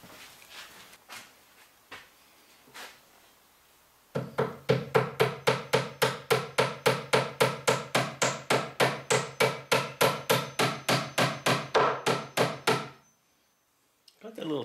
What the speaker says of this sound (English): Tack hammer in a bundle of tools I bought from a guy.